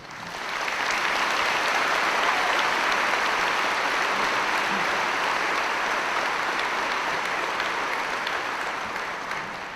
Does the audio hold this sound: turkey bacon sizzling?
no